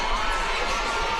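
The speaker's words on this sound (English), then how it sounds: "in front of a sellout crowd at the Coliseum" Sellout hockey crowd at the Coliseum during a Fort Wayne Komets game against Tulsa, a broad sustained roar of cheering and shouting filling the arena, loud and continuous throughout the brief moment.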